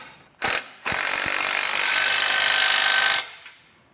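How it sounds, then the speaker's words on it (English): A wrench or power tool snugs down hardware on a 2023 Jeep Wrangler base plate kit: two short bursts, then a loud continuous grinding buzz lasting over two seconds, close up with no talk. "you can come back with a 3/4 inch socket and wrench and snug all the new hardware down"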